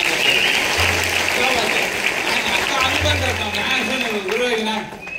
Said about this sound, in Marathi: आवडलं असेल तर जोरदार टाळ्या तात्यांच्या